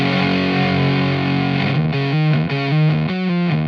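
Electric guitar with PAF-style Fishman Fluence humbuckers played through a Teisco fuzz pedal: a thick, saturated sustained chord, then a chugging run of gated fuzz notes, loud and close with no talk.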